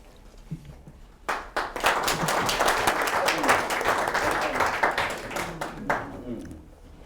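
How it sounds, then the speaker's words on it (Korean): Following a brief quiet moment, an audience breaks into sustained applause at a foundation's award ceremony and plaque presentation, holding steady before tapering off, with a voice faintly under it. "다시 한번 박수 부탁드리겠습니다."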